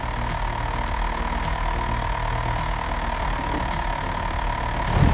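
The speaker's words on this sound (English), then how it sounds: "the low, steady rumble of a large fire truck's engine idling and slowly rolling forward" A large fire truck engine idles with a low, steady rumble as the truck slowly rolls forward, holding constant and close before swelling slightly at the end.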